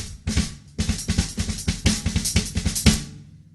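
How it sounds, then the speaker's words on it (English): Drum kit with kick and snare struck together in a gospel chops groove, punchy repeated hits in a fast syncopated pattern, close and loud, with no voices. "they like to play the kick and the snare at the same time."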